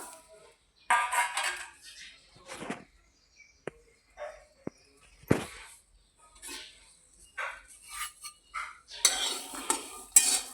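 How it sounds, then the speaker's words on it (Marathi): Peas dry-roasting in a heated kadhai, with scattered scrapes and stirring clatter of a utensil against the pan, a few sharp clicks, and short bursts of sizzle and rattle, fairly close, with no talking. "कढई ठेवली तापायला, त्यासाठी मटार भाजून घेतलं."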